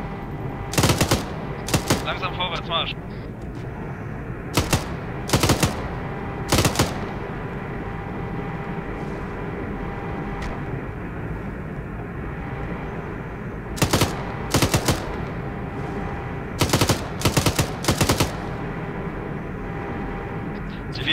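Gunfire in a wooded area in the video game ArmA 3, sharp bursts of automatic fire coming in clusters with pauses between them, under a steady engine drone, while a man gives spoken commands.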